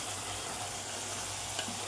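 Chicken curd curry simmering in a pan, a steady soft sizzle and bubbling with faint stirring scrapes throughout, fairly quiet and close, with no voices.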